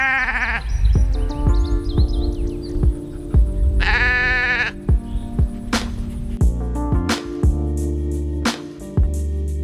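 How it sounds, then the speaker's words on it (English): Farm sheep bleating repeatedly, several loud close calls layered over a low steady hum, with a few sharp knocks between cries. "These sheep are a bit of a headache this year."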